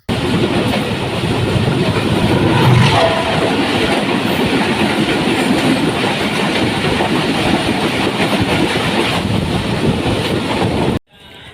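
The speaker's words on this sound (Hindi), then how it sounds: "हमारी मुलाकात हुई हवेलियां और कराची के दरमियान चलने वाली 12 डाउन हज़ारा एक्सप्रेस से, जिसकी लीड पे लगा हुआ था GEU 40 लोकोमोटिव" The Hazara Express passenger train, hauled by a GEU 40 locomotive, passes close by with a loud, steady rumble and clickety-clack of wagons for about eleven seconds, then cuts off abruptly.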